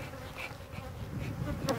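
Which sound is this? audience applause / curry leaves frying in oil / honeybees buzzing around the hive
honeybees buzzing around the hive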